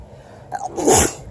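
One sharp, close sneeze with a brief inhale before it, loud and alone against quiet background hiss.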